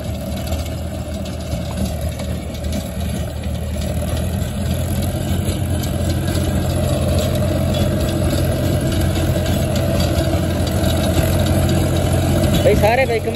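A Mahindra 265 DI tractor pulling a 7-foot rotavator gives a steady, loud, continuous engine drone with a low rumble that holds throughout.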